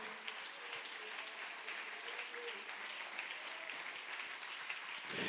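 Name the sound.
congregation applauding in church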